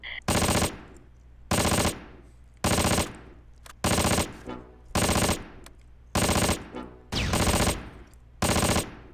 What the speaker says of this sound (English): Receiving fire.